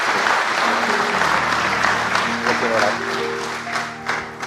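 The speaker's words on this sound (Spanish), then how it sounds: "Y demos un aplauso a Dante." Audience applause from a church congregation at an evangelical talk, a dense, steady clapping that fills the whole clip, with a few voices and tones mixed in underneath.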